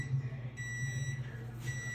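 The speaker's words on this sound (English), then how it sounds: "Okay, there's the timer." Kitchen timer beeping as homemade pizza dough made with freshly milled flour finishes baking, steady electronic tones sounding through a low background hum.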